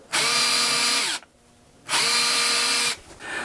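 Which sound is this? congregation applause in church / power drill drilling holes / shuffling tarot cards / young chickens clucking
power drill drilling holes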